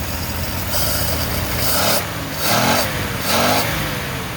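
A 1951 Chrysler Windsor Traveler engine revs in several short bursts over a steady idle, rising and falling three times, close and fairly loud, with no voices.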